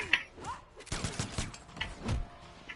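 Jacqui's machine gun from the Mortal Kombat X fighting game, heard as short bursts of rapid gunfire with impact hits, mixed with other game effects and partly under a speaking voice.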